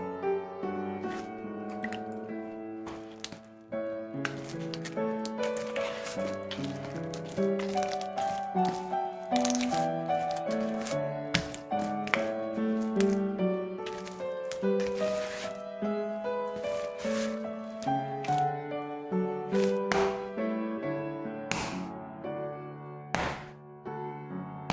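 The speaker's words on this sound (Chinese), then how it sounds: "最后采用摔打、拉伸、对折的方法" Bread dough for a hand-kneaded chocolate toast loaf is slapped down, stretched and folded by hand, giving repeated close, sharp thwacks and soft sticky squishes in an uneven, busy rhythm.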